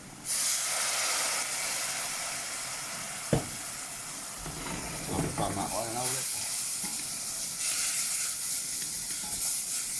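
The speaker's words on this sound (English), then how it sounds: "Sizzle time." Spices sizzle loudly in a hot pan, a steady hissing fry with a sharp clunk and bursts of crackling and stirring partway through, close up and continuous.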